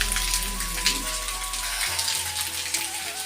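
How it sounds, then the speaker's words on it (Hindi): Steady rain patters and hisses across surfaces, a dense wash of drops with a low hum underneath and no voices. "देखो कितना बारिश होते"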